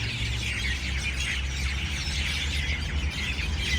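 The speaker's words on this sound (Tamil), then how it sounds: "அவ்வளோ குருவி சத்தம், மாஷா அல்லாஹ்." Many sparrows chirping at dusk near a cultural district in Abu Dhabi, a dense, continuous chorus of small high tweets at moderate distance over a low ambient hum.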